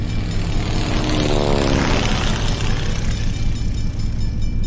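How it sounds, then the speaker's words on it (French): Airplane passing overhead with a loud, close roar that swells and sweeps downward in pitch as it goes by, with a steady rumble underneath and no talk. "Vous allez entendre passer l'avion."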